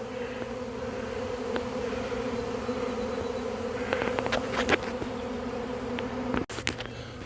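A huge honey bee swarm on an old dead cherry tree hums with a dense, continuous outdoor buzz, individual bees zipping close past now and then, plus a sharp handling bump near the end.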